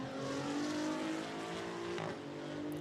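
GT2 race cars lap the Monza circuit during a 2024 Fanatec GT2 Europe race, a pack of engines producing a steady, loud, sustained roar that shifts slightly as they pass.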